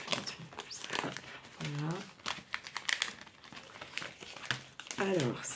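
A Temu parcel is opened and its plastic packaging crinkles and crumples in repeated close bursts, with a voice speaking at moments in between.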